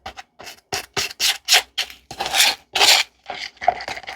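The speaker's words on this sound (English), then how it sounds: "So it is best to scrape it." A stick scrapes white paste in short, rapid strokes, roughly a dozen close, crisp scratches with uneven gaps, alone without talk.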